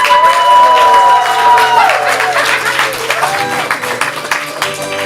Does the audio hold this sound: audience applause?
yes